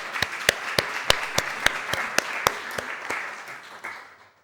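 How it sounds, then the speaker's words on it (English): Conference audience applause for cities, heard as sparse, distinct hand claps from a few people near the microphone in a loose rhythm, thinning out and fading at the end. "a round of applause for our first four cities."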